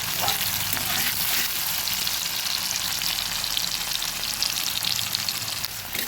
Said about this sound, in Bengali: এবং গোটা গরম মশলা এখানে দারচিনি এলাচ এবং লবঙ্গ আছে সব কিছু একসঙ্গে ভেজে নেব